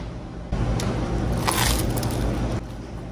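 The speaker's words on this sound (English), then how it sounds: "Did you hear the crunch on that?" A close, loud crunching bite into crisp pizza, with a dense crackling texture over about two seconds against background noise.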